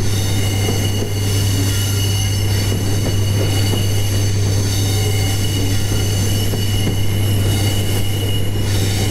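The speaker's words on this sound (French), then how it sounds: "Toujours les petits sons de roulement." Corail passenger coaches rolling on rails in Train Simulator 2017, with a steady low rumble and constant wheel noise throughout, loud and continuous with faint squeals, no talk.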